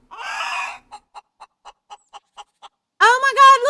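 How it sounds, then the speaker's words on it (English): A chicken in the sandbox game Rising World gives a burst of agitated squawking, then a run of eight short, evenly spaced clucks, and ends with a louder, rising squawk, all close and clear with no talk over it. "I got a chicken!"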